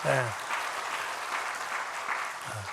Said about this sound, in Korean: 우리 사랑의 박수를 한번 우리 형제님들한테 For you claps.